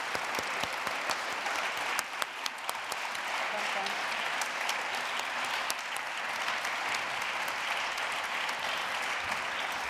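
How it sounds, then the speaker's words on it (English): An audience at a fundamental rights forum closing session applauds the event's core team and moderators, with sustained, dense clapping throughout and a voice speaking faintly underneath. "so we can give you a proper applause"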